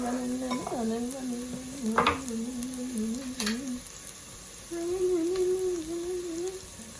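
Tofu dish sautéing in a pan, a steady sizzle with stirring scrapes and a couple of sharp utensil clicks, with a tonal hum running underneath throughout.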